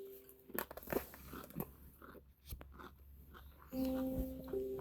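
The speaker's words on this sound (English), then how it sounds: "So you have to hear my chewing." Close-up chewing and biting of food, with several crunchy bites and wet mastication in irregular bursts, near and fairly quiet, with a steady tone from a game in the background toward the end.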